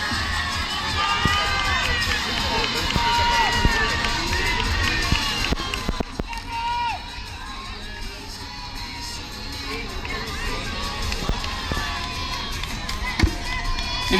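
Spectators at an outdoor athletics meeting cheer and shout through a men's 1500 m race, with a dense, lively crowd roar, children's shrill calls and scattered claps that persist throughout.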